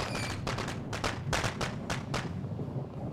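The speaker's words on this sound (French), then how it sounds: "j'ai esquivé les boulets de canon, nickel" Cannonballs fire and impact in the Rock of Ages 3 video game, a rapid series of sharp booms and thuds over a steady rumbling background, fairly quiet overall.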